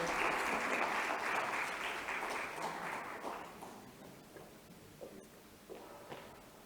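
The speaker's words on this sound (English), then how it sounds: "Ladies and gentlemen, a warm round of applause to our distinguished speaker" An audience at a management association leadership talk applauds a distinguished speaker. The clapping is loud at first, then fades to scattered claps and faint footsteps.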